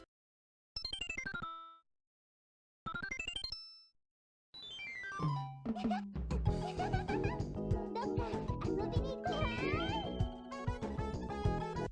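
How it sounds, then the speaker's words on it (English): A PS1 dating game, Magical Date, plays its girl-selection screen cue: two short descending chime sweeps separated by silence, then a busy, bright jingly musical burst that continues densely to the end, with no one speaking. "the sound that happens when you get to the pick a girl screen"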